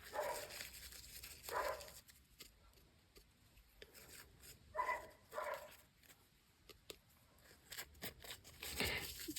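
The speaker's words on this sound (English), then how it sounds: "It's apparently a dog conversation because I hear another dog far away talking back." Several faint barks from dogs far off, scattered in short bursts amid a quiet, hissy outdoor background.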